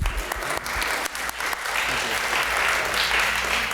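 A graduation audience in a hall bursts into steady, full applause for an absent graduate, a dense crowd clapping that holds strongly from start to finish.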